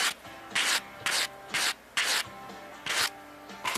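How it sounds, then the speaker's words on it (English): Sandpaper rubbing over a silver coin ring in several regular back-and-forth strokes, each a loud close rasping burst with short pauses between, no talking. "that's just seconds of running this sandpaper over this"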